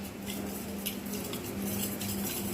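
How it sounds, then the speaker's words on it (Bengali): A whisk beats sugar and oil for a chocolate cake, a steady, busy scraping and clinking against the bowl with no speech over it. "ভালো করে এটাকে ফেটিয়ে নেব।"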